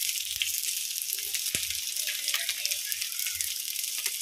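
Onions fried until reddish in a pan while salt and turmeric are added, for an olive (jolpai) chutney. A steady, soft sizzle fills the background, with a few quiet knocks from the spoon.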